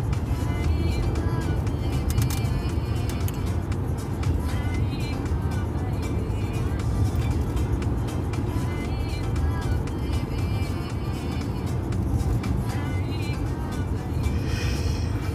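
A car drives along back roads, with a steady close engine and road rumble running throughout and a voice talking over it at times.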